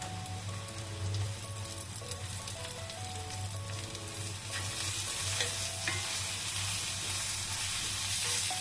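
Drumsticks (moringa pods) frying in a pan with turmeric, with a steady close sizzle and occasional stirring that grows a little louder midway, with faint tonal sounds underneath.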